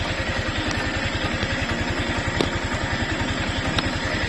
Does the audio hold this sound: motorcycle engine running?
yes